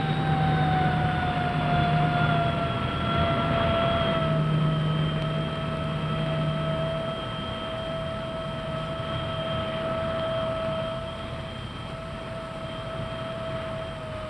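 A de Havilland Comet jet airliner lands and taxis across Dum Dum airport in Calcutta, its engines giving a steady, loud whine with sustained tonal lines that ease slightly lower over time. No one speaks.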